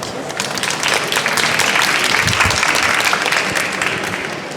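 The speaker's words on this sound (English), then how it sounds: "Please give a big applause to the team." An audience applauds a team at a conference pitch and panel session, a full, steady roll of many hands clapping that swells slightly mid-way and stays loud before easing.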